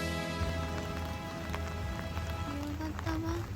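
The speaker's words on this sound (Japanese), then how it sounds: "夕飯を食べようと外に出ましたら雨が降っていました。" Rain pours outside in Malacca, Malaysia, as a dense, continuous hiss with scattered drop patter, over low steady hum and a few faint tonal sounds.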